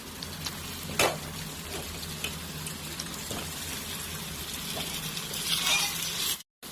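Half a kilo of skin-on chicken fries in a pan with onions, chillies, curry leaves and ginger-garlic paste, giving a steady close sizzle with a sharp hiss as the meat goes in.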